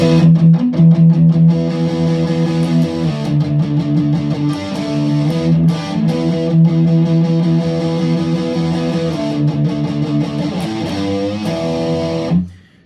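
Distorted electric guitar plays a sustained, chordal ending phrase, ending on an E5 with a bent G, ringing out loudly before cutting off abruptly at the end.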